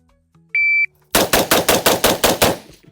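Seven rapid semi-automatic rifle shots from an M400 on a timed shooting course, evenly spaced and loud, preceded by a single electronic start beep from a shot timer.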